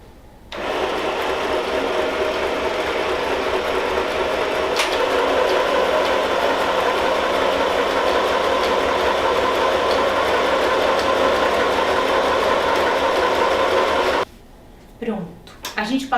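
A sewing machine stitches the seam around a double-sided ecobag in one steady, loud, continuous run that ends abruptly, leaving a few soft handling noises.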